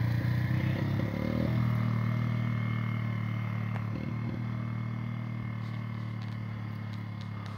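A Yamaha Moto 4 ATV rolls down a hill in first gear, giving a steady low engine drone with some clatter, heard from a distance on open hillside.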